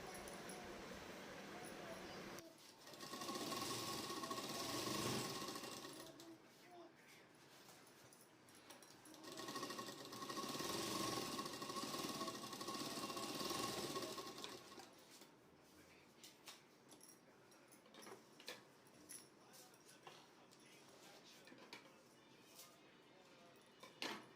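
A sewing machine runs in two sustained stitching bursts along the side seam of a salwar leg, loud and close, then gives way to quieter clicks and handling.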